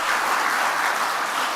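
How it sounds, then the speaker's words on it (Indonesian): Audience applause at a PDI Perjuangan political gathering, a short, steady burst of dense clapping from a crowd with no voices over it. "tepuk tangannya aja nggak meriah"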